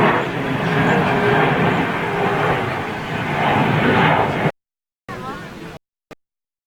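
An aircraft lands on a runway at Toulouse, and its broad jet roar mixes with the babble of a large crowd nearby before the sound cuts out in brief dropouts.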